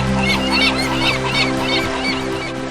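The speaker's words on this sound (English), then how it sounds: "looking at the birds flying in the sky" A flock of geese honks repeatedly overhead in a sky by a riverbank, with loud, rhythmic calls layered over a steady low drone.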